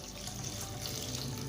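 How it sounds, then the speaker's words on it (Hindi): Water pouring from a tap into a pot for chicken soup in a home kitchen, a steady close rushing stream with no break. "तो अब हमने इसके अंदर पानी ऐड करना है।"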